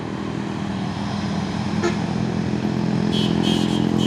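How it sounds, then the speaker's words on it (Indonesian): A Pusoren 6x4 tronton truck drives in with a steady low engine rumble and road noise, and a short horn-like tone comes near the end. "Masuk lagi truk tronton Pusoren 6x4."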